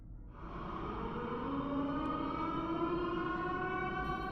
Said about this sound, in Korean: 기다리는 중간중간에 갑자기 들리는 사이렌 소리가 절 미치게 만들고 있었습니다